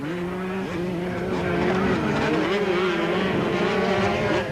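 200cc racing machines compete in a 1998 Super Series race, their engines producing a loud, sustained high-pitched whine that rises and falls as they pass close by, with no gaps.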